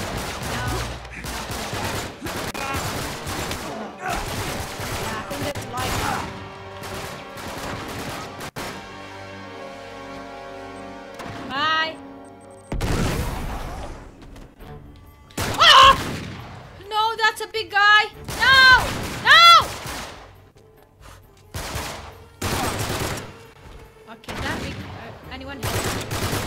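Gunfire in the video game Uncharted 3: Drake's Deception, bursts of shots scattered through a busy mix of music and game noise, with a voice shouting over parts of it.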